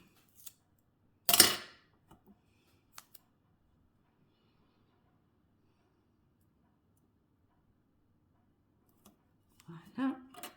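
Scissors snip paper for a handmade vellum card, one loud crisp cut near the start followed by a few faint ticks, then soft rustling and snipping toward the end in an otherwise quiet room.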